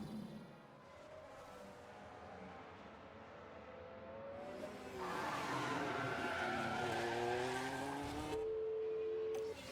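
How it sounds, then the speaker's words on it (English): A car crash in the F1 Manager 24 racing game: racing engines whine and tyres squeal and skid, building to a louder harsh burst near the end, with no talking. "That's a pretty rough crash, honestly."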